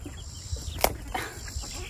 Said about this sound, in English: Oh my gosh, they're escaping. Chickens.